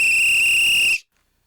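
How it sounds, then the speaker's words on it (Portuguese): A single sharp, high-pitched whistle blast used as a comic sound effect, held steady and loud for about a second before cutting off abruptly into silence. "Atenção para o apito do talarico."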